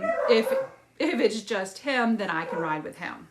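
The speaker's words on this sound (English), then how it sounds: "You can hear our dogs in the background." Household dogs barking and whimpering in the background while a person talks over them, the yips and whines faint beneath the voice.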